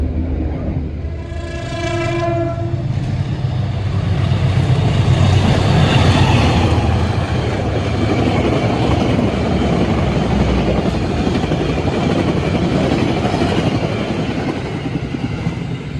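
The Kahuripan passenger train in Indonesia rumbles steadily along the tracks, with a sustained horn-like tone near the start, then continuous broadband rolling noise.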